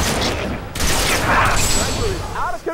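Heavy gunfire from Halo 3: ODST rattles continuously and loudly up close, layered with game effects and a brief voice.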